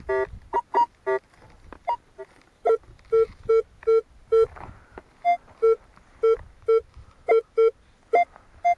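Metal detector out on a coin-hunting dig gives a train of short, evenly spaced electronic beeps, some at a higher pitch, with faint outdoor rustling and footsteps between them.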